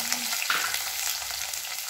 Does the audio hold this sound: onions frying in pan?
yes